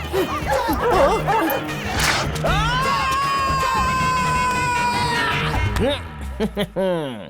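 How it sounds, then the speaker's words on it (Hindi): Several dogs bark excitedly while chasing a man in a Hindi comedy film scene, sharp repeated yips and barks over crowd-like shouting and a sustained music tone, close and loud throughout. "अरे बाप रे, कुत्ते पीछे ही पड़ गए।"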